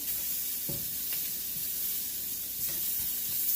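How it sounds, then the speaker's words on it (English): Scallops sear in a hot pan with a steady, close sizzle, broken by a few brief clacks and bumps as they are turned over. "we're going to go ahead and flip our scallops"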